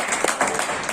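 An audience claps at a Hindi farmers' rally speech about farm laws, dense and steady for a brief moment, with a few sharper claps standing out.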